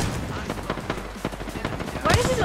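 Video game gunfire rattles in rapid, close bursts of sharp shots, continuous across the moment with a denser volley near the end.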